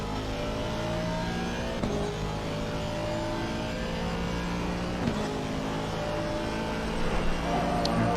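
Race car engine in Assetto Corsa Competizione, an Aston at Imola during a 10-hour endurance race, droning loudly and steadily with sustained high revs and gear-shift dips, alone without talk.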